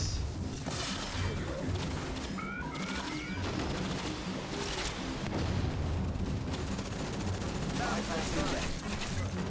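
Turrets fire in the sci-fi shooter Aliens: Fireteam Elite amid a steady wash of game combat noise, with bursts of gunfire, whooshes and chirping effects layered throughout.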